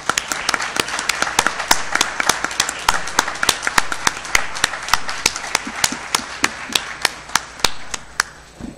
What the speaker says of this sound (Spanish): el placer es pedirles un fuerte aplauso para nuestro amigo Luis Rabadán